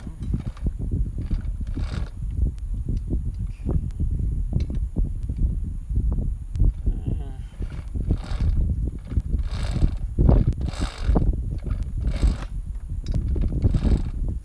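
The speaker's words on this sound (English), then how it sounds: "I've just got my wrench here." A wrench tightening the rear wheel of a 110cc Chinese Taotao Kazuma pit bike, producing close, loud metallic ratcheting and clanking in repeated bursts over steady mechanical rattling.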